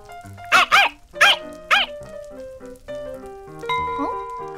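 A werewolf character barks like a dog in a vampire village scene: a few sharp, close barks early on, then a softer whine as music plays underneath.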